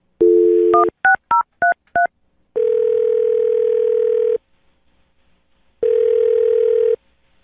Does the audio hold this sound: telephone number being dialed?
yes